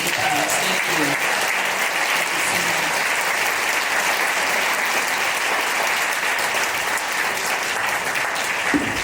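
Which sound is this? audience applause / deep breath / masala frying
audience applause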